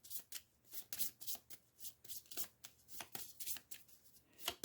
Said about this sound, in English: Let me just shuffle this deck.